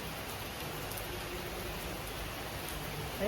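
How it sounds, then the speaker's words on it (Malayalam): Steady, dense downpour of heavy rain outside a house, a continuous wash of hiss with no pauses, swelling slightly louder at the very end. "നല്ല മഴ കേട്ടോ സത്യം പറഞ്ഞാൽ മഴ നിന്നിട്ടില്ല"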